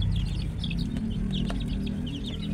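Free-range Rhode Island Red chickens in a backyard farm, soft overlapping clucks and chirps close by over a low steady background rumble.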